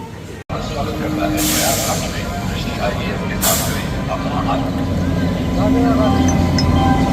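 A train rumbles in at a station with a couple of sharp air-brake hisses, while someone talks over the steady rolling noise.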